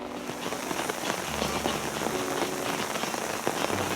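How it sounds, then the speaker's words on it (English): Steady heavy rain pours down on a garden in West Sussex, a dense continuous patter of drops hitting surfaces close by, with no voices. "in the pouring rain"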